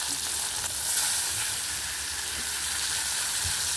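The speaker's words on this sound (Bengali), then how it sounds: "মাছটা ভাজছি।" Fish left overnight in the fridge fries in a kadai for a crisp finish, giving a close, steady bright sizzle with faint crackles throughout, no voices over it.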